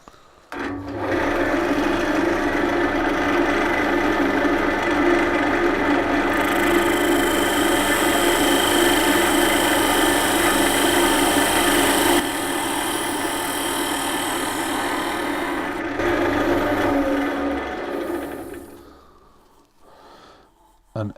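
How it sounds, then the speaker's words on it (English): A sharp skew chisel slicing across a spinning walnut box on a wood lathe, a steady loud whir with a bright hissing cut layered on top for most of the stretch, easing off and fading near the end. "So it just cuts the fibres off as the point on the skew is nice and sharp"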